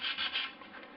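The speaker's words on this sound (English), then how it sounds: "finish the gouged surface by sanding to a sanding cylinder" Steady dry rubbing and rasping as contrabassoon cane is sanded on a sanding cylinder, a close abrasive sound with slight swells in intensity, no voices.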